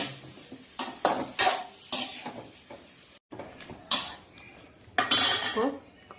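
Chicken frying in a pan is stirred with a metal utensil, giving a series of irregular scraping and clanking strokes against the pan over a faint background sizzle, close and alone.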